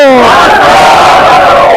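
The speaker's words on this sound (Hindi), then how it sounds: "देखते ही देखते मस्जिद के बाहर सरकार के खिलाफ होने लगी नारेबाजी।" Crowd outside a mosque in Barsoi, Katihar, shouting slogans against the government in unison, a loud, dense mass of raised voices close by that stays steady throughout.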